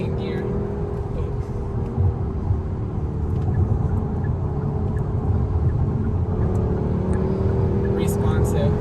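Hyundai Sonata N Line accelerating hard through gears, a low engine rumble and road noise heard from inside the cabin, rising steadily, with people talking over it.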